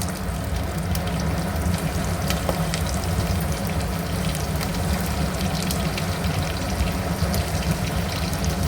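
Mustard seeds, cumin and green chillies frying in hot oil give a steady, dense sizzle with scattered crackling pops that runs without a break from start to finish.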